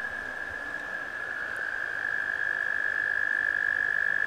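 Toads calling near a creek at Jerusalem Mill Village in Maryland, a continuous high steady trill that grows slightly louder, alone with no talk.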